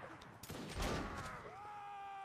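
Musket volleys in a Mount & Blade: Napoleonic Wars line battle, a dense crackling burst of shots peaking early then trailing off beneath sustained ambient battle din and a rising tone.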